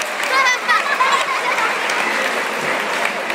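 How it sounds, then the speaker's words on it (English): Audience applause at a sea lion show at Knowsley Safari Park, a steady, dense clapping from a crowd that swells briefly near the start and then holds at an even level, with children's voices faintly mixed in. "give a big round of applause for our Biffo."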